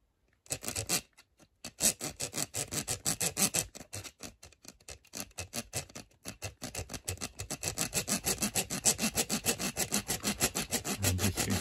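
A hand saw works steadily through metal down toward a bolt, cutting without going into the pipe, a loud, close, rhythmic rasp of back-and-forth strokes that pauses briefly early on, then speeds up.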